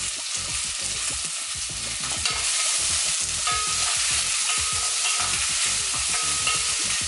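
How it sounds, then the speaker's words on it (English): Food for a tharka, a spiced base sauce, fries in a pan that is too hot, giving a loud continuous sizzle with a steady run of stirring scrapes and clacks, close up and with no talk. "So I can already tell from how much sizzling I'm getting, my pan is too hot."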